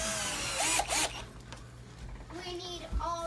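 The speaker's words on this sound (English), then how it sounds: "Why do you like the drill so much?" A power drill whirs in a few short bursts while a window AC unit is fitted at home, with brief mechanical noises and the sounds of people moving around between the bursts.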